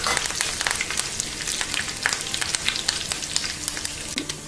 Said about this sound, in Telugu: కరివేపాకు కూడా వేసేసుకోండి.